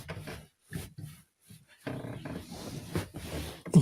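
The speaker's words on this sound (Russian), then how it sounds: "достал меня этот скрип уже этого дивана" A foam sofa without springs creaks and rubs in irregular, close bursts, short squeaks at first, then a longer dense stretch of grinding creaks.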